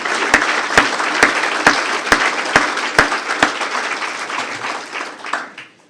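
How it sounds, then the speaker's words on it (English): Sustained audience applause fills a council chamber during the Torrance mayor's State of the City address, steady and fairly loud for several seconds with sharp evenly spaced clicks cutting through, then tapering off at the end. "So I think the Chamber needs a round of applause for that."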